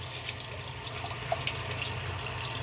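Warm water runs steadily from a household tap while filling for watering potted plants, a constant close hiss and splash with faint drips and no talking.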